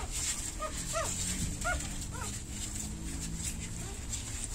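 A three-day-old pet puppy gives soft, high, rising whimpers, several short cries spaced through the first half over steady background noise and faint talk.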